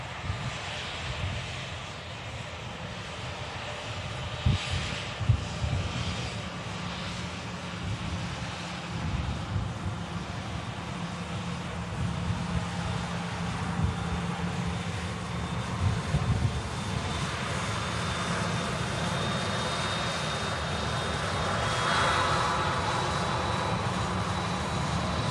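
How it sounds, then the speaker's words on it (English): An EasyJet Airbus A320 on short final comes in to land at an airport, a broad steady jet roar with wind buffeting that swells slightly toward the end, heard from a distance with no talk. "We've got an EasyJet on short final from Lisbon, A320, Whiskey Sierra."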